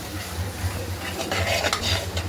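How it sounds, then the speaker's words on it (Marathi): Masala gravy sautéing in oil gives a steady close sizzle, with soft scraping strokes of a spoon stirring in the pan and no voices. "हे छान असं परतून घ्यायचं तेल सुटेपर्यंत।"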